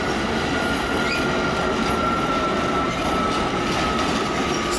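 Locomotive 448 440 hauling a carriage rolls through Budapest Keleti station, with a loud, continuous rumble of wheels on rails and a thin high squeal over it.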